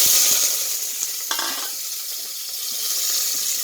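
Onion and green chili sizzle and crackle steadily in a hot pan, close up, with a few soft stirring knocks and no talking.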